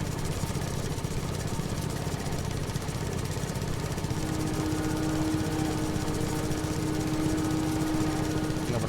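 A mower cutting grass in Farming Simulator 25, heard from the first-person cab view as a steady, loud engine drone with a constant mechanical hum and no pauses.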